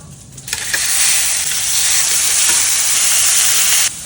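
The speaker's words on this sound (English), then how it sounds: "While the burgers are cooking" Burger patties frying in a hot pan give a loud, steady sizzle that jumps up suddenly and holds for several seconds before cutting off, with no talk over it.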